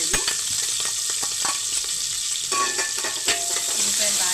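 Onions sizzling loudly in hot oil for a tripe (boti) curry with fenugreek powder, a steady close frying hiss with scattered stirring clicks and pops.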